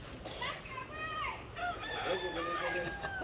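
Chickens sound nearby, with a rooster crowing and clucking in several drawn-out calls, fairly faint under background murmur and people talking.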